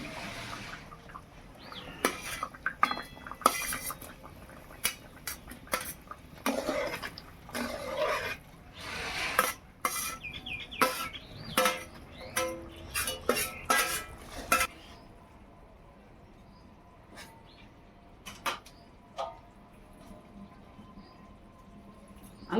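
Fried fish and mango pieces tipped into a pot of boiled potatoes for a tangy mango fish curry, with sharp clinks and scrapes of a metal spoon against the pot coming in bursts, then fading to a few sparse taps.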